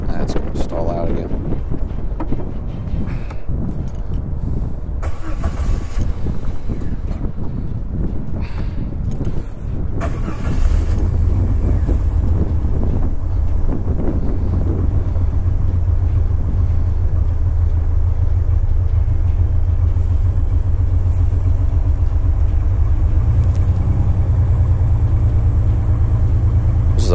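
A Jeep Wrangler YJ engine under rebuild cranks and stalls, then settles into a loud, steady low rumble through the second half, with wind buffeting the microphone and a voice talking early on.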